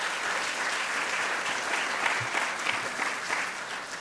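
An audience claps in a round of applause for a speaker, producing even, moderately loud clapping with a few sharper individual claps standing out and no speech on top.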